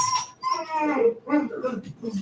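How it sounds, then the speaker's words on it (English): Dogs howl and whimper in long, wavering wails that rise and fall one after another, close and fairly loud, with no talking. "So I wonder why the dogs are freaking out again."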